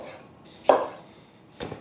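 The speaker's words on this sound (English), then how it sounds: "we can go ahead and cut up a ham" A knife cuts ham on a cutting board during breakfast prep, giving one clear sharp chop near the middle and a softer second knock at the end, close up in a quiet kitchen.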